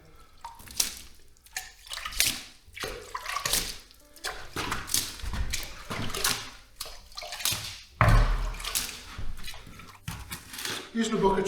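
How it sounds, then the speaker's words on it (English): Water splashed onto a wall before tiling, in irregular wet slaps and splatters interspersed with drips and handling noises, near and fairly loud, with a person talking at times. "first thing we need to do is get some water on it"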